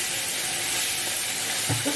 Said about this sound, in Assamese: এতিয়া এইখিনি ভালদৰে 5-10 মিনিট ভাজি ল'ম।